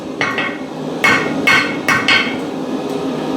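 Hammer blows on hot steel over an anvil while forging a square spiral, five or six sharp ringing strikes in uneven pairs, close and loud against a quiet workshop background.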